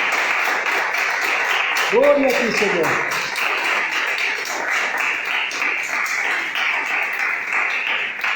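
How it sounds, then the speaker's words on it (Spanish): A church congregation applauds with a steady, fairly loud wash of clapping while someone speaks over it. "Denle un fuerte aplauso en gratitud al Señor"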